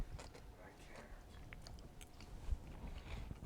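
Someone eats elotes salad, a Mexican corn salad, with soft, close chewing and small wet mouth noises, while quiet murmured talk runs underneath.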